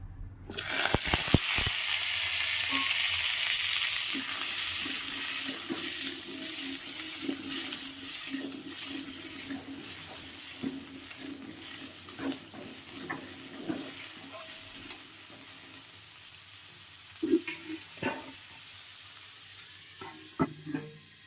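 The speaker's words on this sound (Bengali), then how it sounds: "এবারে আমি আলুটাও ভেজে নেব।" Potato pieces frying in oil in a pan make a loud hiss at first that slowly settles into a softer sizzle, broken by scattered scraping clicks and stirring knocks.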